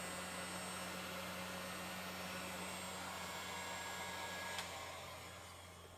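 A hair dryer on its lowest setting blows warm air over resin on beach coasters, a steady close whooshing hum that runs throughout and eases slightly at the end, with no talking.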